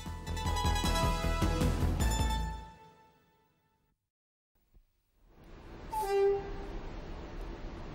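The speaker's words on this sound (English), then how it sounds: "Today's locomotive is 50035 Ark Royal." Class 50 diesel locomotive 50035 Ark Royal runs loud with a rich throbbing engine roar that cuts out to near silence, then a rushing train noise returns with a short horn-like tone, no speech.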